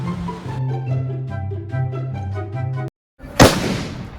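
A Diwali firecracker bomb goes off once, as a single loud sharp blast near the end. Tonal music plays before it, then a brief silence just ahead of the bang.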